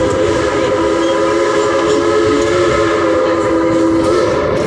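Heritage steam locomotive engine #192 runs loud and close, its sustained whistle sounding over a steady rolling rumble of wheels and machinery throughout.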